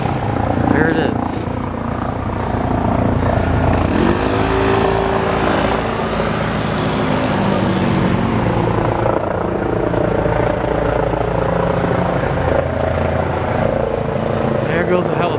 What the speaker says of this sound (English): There goes a helicopter.